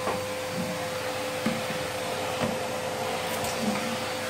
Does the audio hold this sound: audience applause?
no